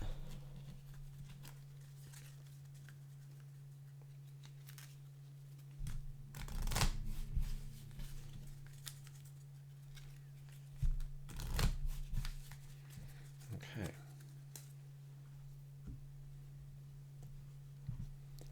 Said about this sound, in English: Let me shuffle this bad boy out real quick.